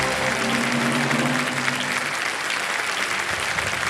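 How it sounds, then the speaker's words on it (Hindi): Studio audience applause on a televised quiz show, a steady dense burst of clapping at full volume that runs throughout, with no speech over it. "तालियां बजाइए।"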